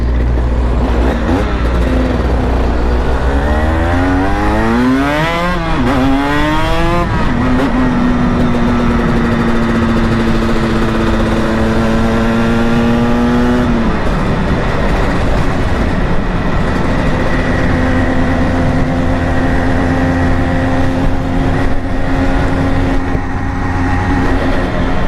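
A Cagiva motorcycle engine roars loudly and steadily on a ride, revving up and down through rising and falling pitch sweeps with constant wind noise, no talk over it.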